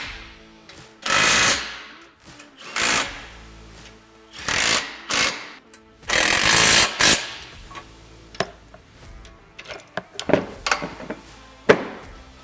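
Power tool driving and tightening bumper hardware on a CFMoto UForce 1000 utility vehicle, several loud whirring bursts of a second or so each, then shorter clicks and taps, close up, no talk.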